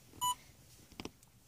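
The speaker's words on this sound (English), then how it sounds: "which is the system tone, which is that beep right there" A 1992 Oldsmobile Toronado Trofeo's Visual Information Center gives a single short, clear electronic system beep inside the parked car, followed by a few faint clicks.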